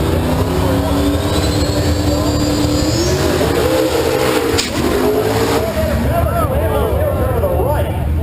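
A PT Raceway Street Outlaw drag car leaves the starting line at an NMRA Spring Shootout at Bradenton Raceway, Florida, its engine roaring loud and steady with rising pitch as it accelerates away, under a commentator's voice.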